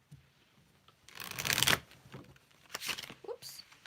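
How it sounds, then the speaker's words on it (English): Tarot cards being shuffled by hand in bursts, a loud riffling rush followed by two shorter shuffles, with a soft voice murmuring briefly near the end. "So let me shuffle this more."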